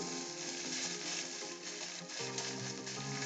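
Curry leaves with cumin and green chilli slit into hot oil sizzle and crackle in a pan, a continuous loud frying hiss steady throughout, with soft background music and no talk.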